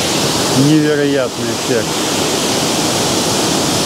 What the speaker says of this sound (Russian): даже не слышу себя, ребят, как громко говорит водопад